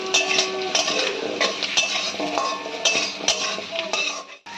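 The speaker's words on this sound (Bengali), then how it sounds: "আলু দিয়েও ভালো করে ভেজে নিতে হবে" Cut potatoes fry in a pan as a metal spoon stirs them, giving close, busy clinks and scrapes over a continuous sizzle.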